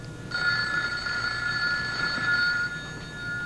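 A telephone rings continuously in a 1980s soap-opera room scene, a sustained electronic bell trill starting just after the onset and lasting about three seconds before dropping off, fairly close over a low background hum, with no talking.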